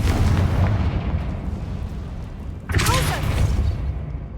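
The Confringo spell explodes in the video game Hogwarts Legacy, giving a deep, rolling, booming rumble. Partway through, a sharp whooshing burst rises over it, loud and close.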